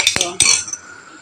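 Egg noodles for mami stirred in a pan, giving a few sharp utensil clinks and scrapes against the metal close up, then a fading ring.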